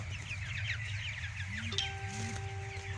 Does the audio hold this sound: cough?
no